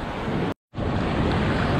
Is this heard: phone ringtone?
no